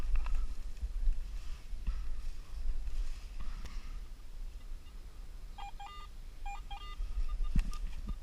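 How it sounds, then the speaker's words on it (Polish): A Garrett AT Pro metal detector sounds an iron signal while searching in a forest: a short cluster of clipped electronic beeps near the end, moderately loud over a low rumbling outdoor background. "a tutaj sygnał na żelazo"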